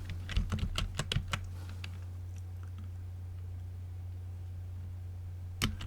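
Fingers type a prompt on a computer keyboard in a quick burst of close clicking keystrokes, then stop, leaving a steady low hum before one last key press near the end.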